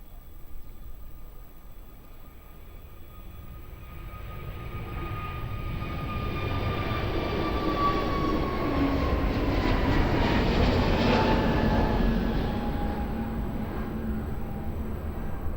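A jet aircraft at Lisbon Airport passes at a distance, its broad engine roar building steadily from a faint rumble to a sustained, louder whine with a falling tone, no voices present.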